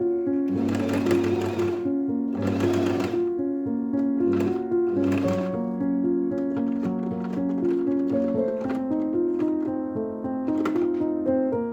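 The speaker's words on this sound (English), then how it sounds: "I sewed together the sides of the neckband." A sewing machine runs close and loud in short bursts of rapid mechanical chatter with humming tones between them while stitching together the sides of a collar neckband.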